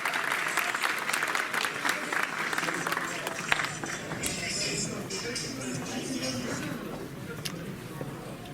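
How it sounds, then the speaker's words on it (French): Audience applause at a talk event, a broad wash of many hands clapping from a crowd for several seconds, with voices and some shuffling mixed in underneath. "On applaudit très fort."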